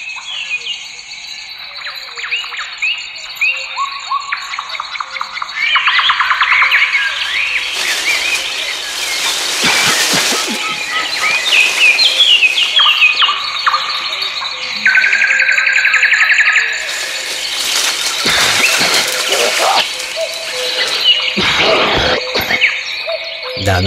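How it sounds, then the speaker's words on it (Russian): Songbirds, including waxwings, thrushes, finches and larks, chirp and trill steadily outdoors. Bursts of noise run through the middle and later stretches, fitting a man's coughing mixed in among the calls. "я вот тут навеки запечатлелся в компании наших певчих Свиристелей, Дроздов, Зябликов, Жаворонков."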